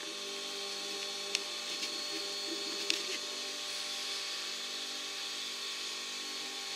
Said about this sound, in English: And then we start the machine. Wait until he runs full power.